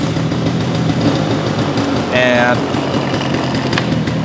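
A Vespa PX two-stroke scooter engine idles with a steady, buzzing drone, running continuously at an even level while a person speaks over it.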